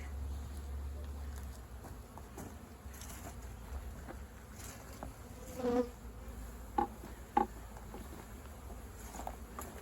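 Honey bees buzz around an open hive during backyard beekeeping, a faint, steady insect drone with a few sharper close passes and light handling taps, with low voices nearby.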